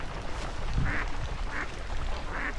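Three short duck quacks spaced about evenly apart, over a steady outdoor background hum.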